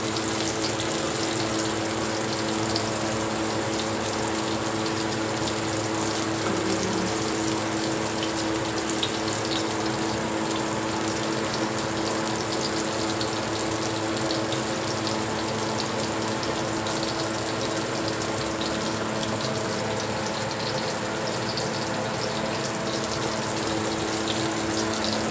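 Chicken liver frying in a pan at home, giving a steady, even sizzle that holds at a constant level throughout with no one talking.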